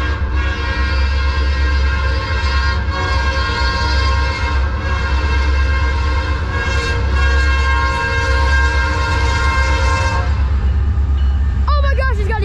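A loud Union Pacific train rumbles past up close in a Louisiana winter storm, its horn blaring in long sustained blasts over the rolling clatter of the cars.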